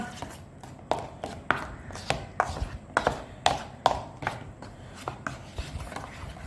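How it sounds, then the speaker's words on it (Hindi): Spices being mixed into yogurt in a bowl, a close series of rhythmic scraping and tapping strokes of a utensil against the bowl, about a dozen in a row. "सारे मसाले मैं दही के अंदर डाल के इनको कर रही हूँ मिक्स।"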